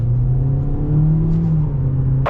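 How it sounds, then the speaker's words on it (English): A 2021 Hyundai Elantra Limited accelerates at full throttle, a loud, close engine drone with a steady hum that rises slightly in pitch and holds. "let's get our full-blown acceleration and see how this performs"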